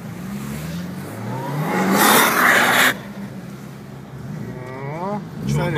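Car drifting at night, heard from nearby: a steady engine drone swells into a loud rising roar with tire hiss for a second or so, then drops back as people talk over it.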